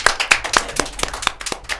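A handful of people clap in quick, uneven bursts, sharp and close, with no talking over it.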